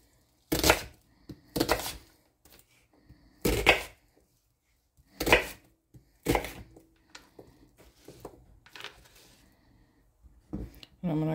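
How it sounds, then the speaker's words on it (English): A knife chops an onion into chunks on a cutting board for a paprika garlic sheet-pan chicken dinner, giving about seven sharp, close chopping strokes spaced by short pauses, then lighter scraping at the end. "Cut the onion into chunks."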